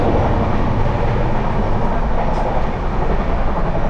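Kriya Yoga Express passenger train running on the rails, a loud, steady rumble and roar with faint rhythmic clatter, heard continuously from inside the carriage with no talk.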